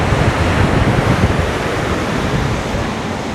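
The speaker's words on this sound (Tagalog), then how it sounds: "Ganyan ang alon sa likod mo." Heavy ocean surf pounds against coastal rocks near Rabat, Morocco, a loud, continuous roar of crashing water with wind buffeting the microphone throughout.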